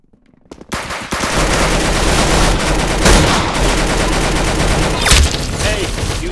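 Rapid automatic gunfire from a Roblox Arsenal match bursts in after a quiet start and continues as loud, dense, sustained shooting with a few sharper shots standing out.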